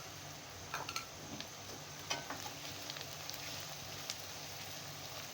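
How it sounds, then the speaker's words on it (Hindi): Onion, garlic and ginger paste fries in a pan with a faint, steady sizzle, broken by a few soft stirring clicks, with no voices. "अभी इसे हम मज़ीद फ्राई करेंगे ताकि हमारा लहसुन भी बहुत अच्छे से इसमें फ्राई हो जाए"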